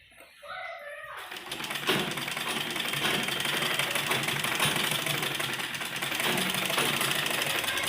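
A sewing machine stitches a folded kurta sleeve. After about a second of quieter sound, a steady mechanical whirr runs continuously and close by.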